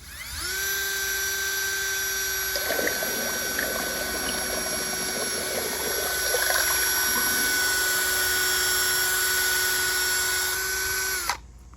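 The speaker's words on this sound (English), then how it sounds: "I just stick it down my bucket, put my drill on high, and mix it all up." A high-pitched power drill whines steadily for about eleven seconds, churning liquid diesel fuel in a bucket with bubbling, sloshing sounds, then cuts off abruptly.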